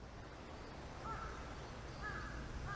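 Crows in the video game Umamusume caw in short harsh calls around the one- and two-second marks, faint over a steady noisy background.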